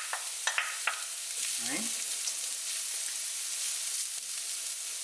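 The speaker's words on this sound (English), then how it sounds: "on top of these carrots, we're going to add our onions" Onions tipped onto carrots already frying in a pan for chicken fried rice, giving a steady, close sizzle with a few early clatters, and a brief voice speaks partway through.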